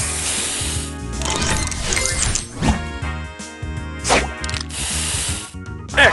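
A spray booster fires in a match-3 mobile game, a busy burst of bright clinks, whooshes and crashing effect sounds layered over game music, loud and continuous with sharp hits scattered through.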